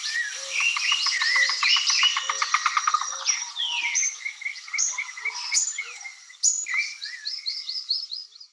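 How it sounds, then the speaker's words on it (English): Yellow-billed cuckoo calling in the Andes near Bogota, Colombia: a rapid series of wooden knocking notes speeding up, then scattered sharp chirps and whistles, loud and close, with no voices. "Here's what a yellow-billed cuckoo sounds like."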